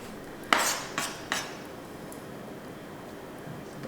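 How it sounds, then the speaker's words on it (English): A knife slices fresh-picked tomatoes on a board, three crisp cutting taps in quick succession, fairly close, then quiet kitchen background. "Finish up slicing these tomatoes"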